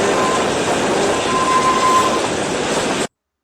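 A passenger train runs on rails with a steady, loud rolling rumble and a faint wheel whine, then stops abruptly.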